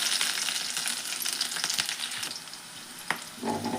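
Chopped onion and green chillies fry in hot oil, a steady close sizzle with occasional stirring scrapes and clicks, no voices.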